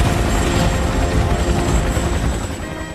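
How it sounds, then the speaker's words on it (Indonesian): Loud, steady rotor and engine roar of a helicopter, broadband and continuous, fading slightly toward the end. "Selang beberapa saat kemudian, datanglah helikopter tim penyelamat"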